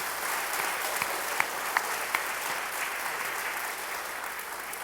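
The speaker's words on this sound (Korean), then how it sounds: "하나님께 감사로 박수로 영광 돌리시면 좋겠습니다" A church congregation applauds during a Sunday worship service. The clapping is steady and sustained, a dense wash of many hands heard from a moderate distance, with a few sharper claps standing out.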